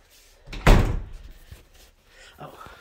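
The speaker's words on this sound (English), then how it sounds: "The garage door" A garage door closes during a final walkthrough of a house. One loud, heavy thud with a short rumbling decay is followed by quieter knocks and faint room noise.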